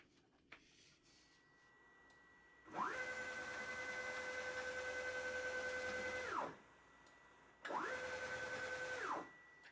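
A Genmitsu PROVerXL CNC router spins a 1/4 inch bit while cutting a dining chair part, producing two sustained whining passes that ramp up, hold steady and wind down, with a short quiet gap and faint clicks between them.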